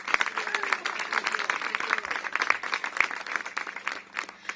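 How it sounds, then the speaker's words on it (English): Crowd claps for solar installation trainees at an outdoor Solar Works DC celebration with Mayor Bowser, moderately loud and a little distant, with a voice or two under the clapping. "So I want to give our trainees a round of applause as well"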